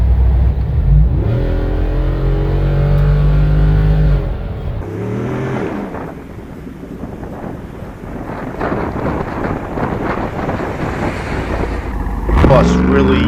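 A Jeep Wrangler 392 accelerates hard, its engine note rising steadily for a few seconds before settling into a rough, wind-buffeted drone, with a person talking over the engine noise.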